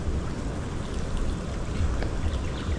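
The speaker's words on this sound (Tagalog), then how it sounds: "Andun na yung ulan oh." Rain falls outdoors in a steady, dense wash of hiss with a low rumble beneath, constant and close for the whole stretch, with no voices.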